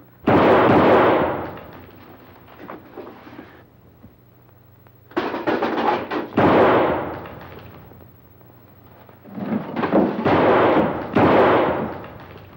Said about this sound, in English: That's a .38 caliber belly gun you got there, Hanson. It's a six-shooter. And you fired your last shot.